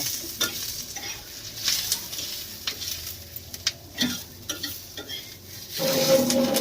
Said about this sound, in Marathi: कांदा परतून घेतलेला आहे